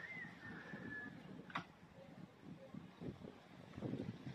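Steady strong wind buffeting the microphone in gusts at an outdoor shooting range, with a brief high squeal and a sharp click partway through, no voices.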